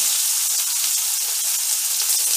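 Onion and asafoetida fry in hot oil, giving a steady, close sizzling hiss that carries evenly throughout.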